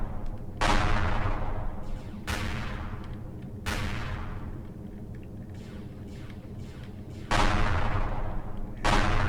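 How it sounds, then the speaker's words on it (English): Heavy gunfire pounds the player's ship in Empyrion Galactic Survival, a handful of loud, booming impacts spaced irregularly over several seconds, each with a sudden onset and a long rumbling decay. "Is there somebody else out there shooting at me?"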